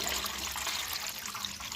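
Water is poured into mashed tomatoes in a pot for pepper rasam, a brief, fairly quiet splashing pour with no talking.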